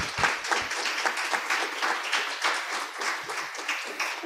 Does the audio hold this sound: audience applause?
yes